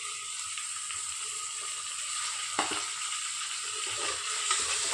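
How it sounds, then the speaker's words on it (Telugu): Two small tomatoes frying in a pan for a potato and capsicum curry, a soft steady sizzle with faint stirring scrapes close by, no talking. "ఈ టొమాటోస్ కూడా మనం బాగా మగ్గే వరకు వేయించుకోవాలి"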